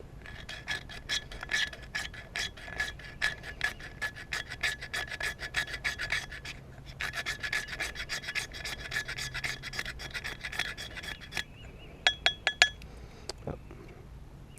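A blade scrapes along the corner edge of a magnesium fire-starting block to make shavings: rapid, close, rasping strokes in quick succession, broken by short pauses, ending with a few sharp clinks.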